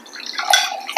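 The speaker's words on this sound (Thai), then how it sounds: "เดี๋ยวขอเทน้ำก่อน" A brief splash of liquid streams and gurgles into a container, close and fairly clear, rising slightly in intensity before ending.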